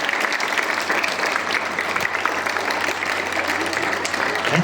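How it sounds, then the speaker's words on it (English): Students clap together at a school morning assembly, a steady, sustained wash of many hands that is fairly loud and continuous, with no talk over it. "Clap together, everyone."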